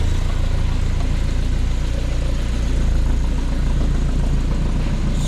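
Steady low engine idle from a Dodge D50 truck with a G63B engine and an exhaust leak, rumbling continuously, with a raspy, puffing exhaust note and a fan-like hiss over it throughout.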